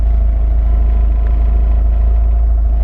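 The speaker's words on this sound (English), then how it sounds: "The 4-cylinder's a little rough." A Jeep four-cylinder engine idling slightly rough, a steady, close, loud low rumble with a faint uneven pulse and no talking.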